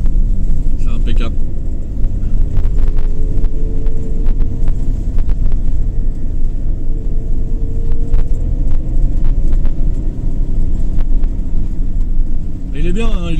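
A small bus with a cruise control and speed limiter drives along a road at night: a steady low engine and road rumble runs throughout, with a voice talking over it.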